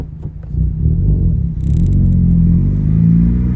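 A Honda Civic Type R FK8 driven from inside the cabin, a loud, steady low engine drone that builds slightly as it pulls, with a faint clatter partway through.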